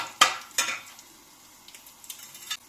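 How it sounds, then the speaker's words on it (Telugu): Mustard seeds and cumin dropped into hot oil with already-fried garlic, crackling in two sharp sizzling bursts near the start, then fading to lighter scattered pops and a soft background fry. "ఎల్లుల్లిపాయలు వేగాక కొద్దిగా ఆవాలు, కొద్దిగా జీలకర్ర 2 వేసేసుకోండి."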